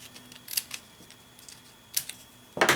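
Scissors snipping through paper while trimming a strip for a Thinlits die-cut box, a few quick close crisp cuts spaced apart, with a louder rustle at the end.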